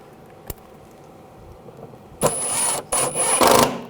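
A power tool whirs in short bursts to drive screws into the washer fluid reservoir of a 2007-2013 BMW 328i. A sharp click comes first, followed by three close runs of the tool with a high whine.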